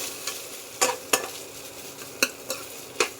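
A fish ball mixture of mashed potato, fish and ground spices is mixed in a bowl, with a few sharp scraping strokes of a spoon over a low steady background hiss.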